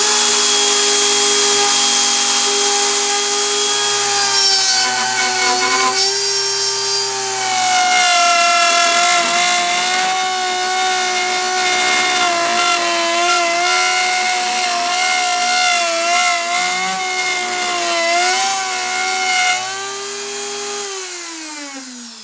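A router bit on a homemade 3D pantograph cuts a spiral into wood, giving a loud, steady whine with shifting pitch that runs close up for about twenty seconds and then winds down at the end.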